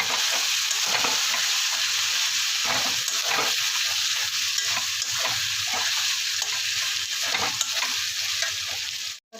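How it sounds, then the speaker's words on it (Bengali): Chicken pieces frying and being stirred in a pan with Kashmiri chilli, a steady close sizzle with repeated scraping strokes throughout, no voices. "মাংস ভাজার মধ্যে দিয়ে দিয়েছি। এর মধ্যে একটু কাশ্মীরি লঙ্কা দিয়ে দেবো"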